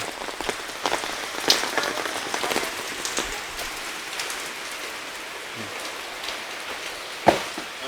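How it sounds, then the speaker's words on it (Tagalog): Steady rain pattering on a hard surface with scattered louder drips, close and continuous, no voices. "Umuulan."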